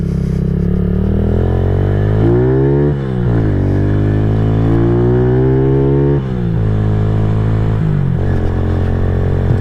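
A KP Mini 150 motorcycle with a new muffler and Nibbi carburetor revs hard, close by and loud, its engine note climbing and dropping through several throttle blips over a steady running drone.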